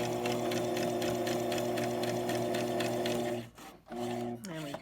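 A sewing machine runs steadily stitching fabric for a face mask, a close, even mechanical whir that stops abruptly near the end before a brief restart.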